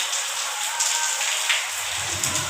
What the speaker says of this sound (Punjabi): ਪੂਰਾ ਮੀਂਹ ਪੈ ਰਿਹਾ ਹਨ ਦੇਖੋ ਜੀ ਮੀਂਹ ਫੁੱਲ ਪੈ ਰਿਹਾ